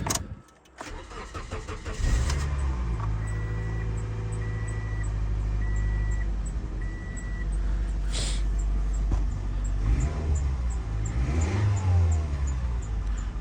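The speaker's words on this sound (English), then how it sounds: "let's start the car up and see if we have a problem solved" A car engine cranks and catches after a repair for a flashing check-engine light, then settles into a steady running rumble with a few light revs, heard close up.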